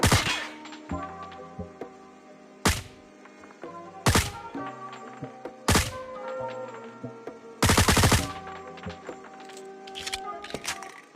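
L-CAR 9 pistol shots in the Call of Duty Mobile video game ring out as sharp loud cracks, single shots and quick bursts spaced a second or two apart, with game sounds ringing between them.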